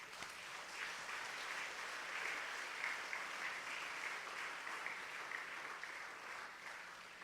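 An audience at a memorial night for Mr. David Charlton claps steadily, a dense, distant wash of applause that holds level for several seconds with no voices on top.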